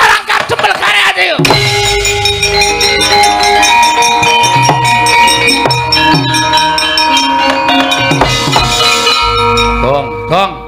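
A gamelan ensemble with gong plays loudly and continuously during a Javanese wayang kulit shadow-puppet performance, with dense ringing metallic tones and struck accents, while voices are heard over the music.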